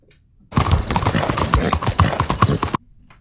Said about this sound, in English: with Biscuit, the Silver Dapple Pinto Missouri Foxtrotter with the Garden Vaquero saddle